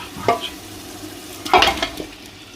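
Mutton goes into a pot of masala for pulao and is stirred, with two brief scraping, sizzling stir sounds over a low background.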